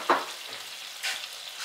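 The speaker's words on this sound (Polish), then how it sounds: "I cebulę też musimy delikatnie zarumienić." Onion frying gently in oil left from browning beef rolls in a pot, heard as a soft sizzle with a couple of brief stirring scrapes, fairly quiet and with no talk.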